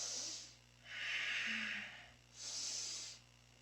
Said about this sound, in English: Inhaling up, exhaling down.